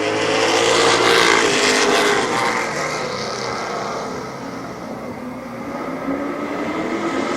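Stock cars roar around the dirt oval at Barberton Raceway Park, a loud, dense engine wash that swells early and then settles into a steady sustained drone as the pack heads into the first corner.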